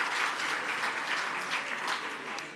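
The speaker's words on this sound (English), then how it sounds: "perhaps we can give them an applause," Audience at an awards ceremony dinner applauds the chef and kitchen staff, a steady, dense wash of clapping that holds at even loudness throughout without any talk.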